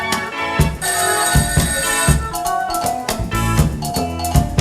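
A man performs a vocal imitation of a telephone ringing at a lively French stage show, producing repeated loud, rhythmic ringtone-like bursts with a steady pulse.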